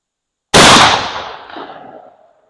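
A single loud shotgun blast firing a Lyman .705 Foster slug with an FT12 tail wad at a range, sharp onset followed by a decaying echo over about two seconds, no talk.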